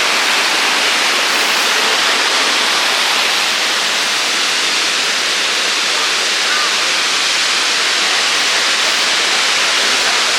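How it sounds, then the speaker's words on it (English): A waterfall at a jungle temple in Chiang Mai gives a steady, loud, unbroken roar of rushing water for the whole stretch. "Yeah, and you can see the waterfall."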